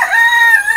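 A loud, close rooster crow, a single sustained call lasting under a second.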